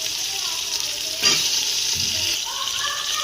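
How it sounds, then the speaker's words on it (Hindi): Half a kilo of chicken fries in a pan with ginger and garlic, a steady close hiss of sizzling oil with a brief stirring clatter partway through. "तो चिकन को हम अच्छे से फ्राई करेंगे"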